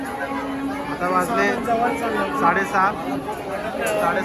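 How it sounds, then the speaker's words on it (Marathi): Crowd chatter grows at Trimbakeshwar temple on a New Year's day visit, a constant hubbub of many voices with nearby people talking clearly over the babble, close and fairly loud. "गर्दी वाढत चालली आहे"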